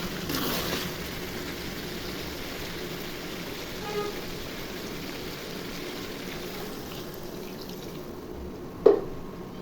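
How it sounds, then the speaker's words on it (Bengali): Hot water poured into broiler chicken curry braising in a pot, a steady faint stream of liquid running for several seconds, ending with a sharp knock of a utensil. "মাংসতে এখন গরম পানি দিয়ে দিব।"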